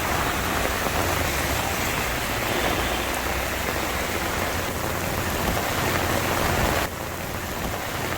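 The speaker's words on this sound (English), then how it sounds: "Mumbai started receiving its monsoon rain from 8th of June 2021." Heavy monsoon rain pours steadily outside a hospital in Parel, Mumbai, a dense continuous roar of drops hitting surfaces that stays loud and unbroken throughout, easing only slightly near the end.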